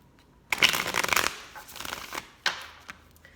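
A deck of tarot cards is shuffled by hand during a reading, with a loud riffling burst followed by softer shuffling and a couple of sharp card snaps, heard alone at close range.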